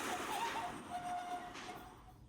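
Interior of an Amsterdam GVB tram in motion: a steady rolling rumble carries faint high squealing tones from the wheels, with no voices.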